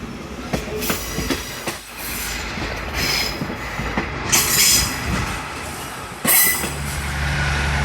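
A passenger train on a circular line in Myanmar rolls along the tracks with rhythmic wheel clacks, rumbling and occasional metallic squeals, close and steady throughout.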